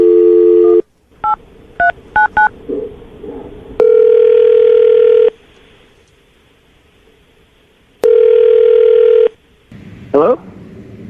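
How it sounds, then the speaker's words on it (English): Touch-tone keys are dialed on a phone line during a morning radio show call, with a quick run of short beeps followed by two long, loud steady tones, then faint rustling. "I'm going to dial the phone number"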